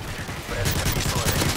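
Gunfire in Modern Warfare 3: rapid, rhythmic shots come in after a moment of dull background noise and continue as a loud, dense burst to the end.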